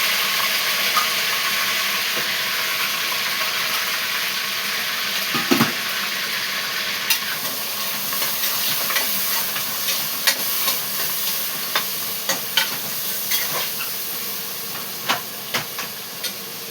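Curry leaves, green chillies and onions go into hot oil and set off a loud, steady sizzle and hiss, with stirring clinks and scrapes coming more often toward the end.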